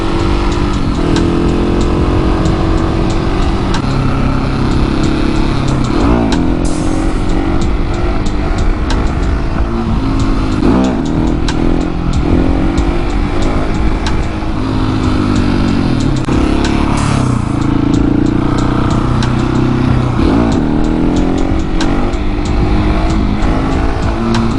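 A KTM 701 motorcycle engine revving hard through gear changes, loud and close throughout, with the rising and falling roar of the engine and no talk over it.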